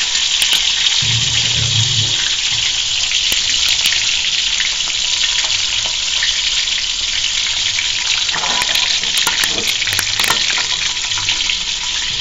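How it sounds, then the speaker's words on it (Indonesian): Fish fries in hot oil with a steady, loud, close sizzle and crackle that runs the whole time, with a few soft clinks of stirring. "terus sambil goreng ikan ya"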